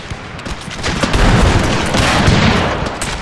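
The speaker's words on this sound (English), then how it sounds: "ready to fire pistol" A dense, rumbling volley of black-powder pistol fire from cavalry in a Thirty Years' War Total War battle, many overlapping pops and booms merging into a loud, continuous crackle.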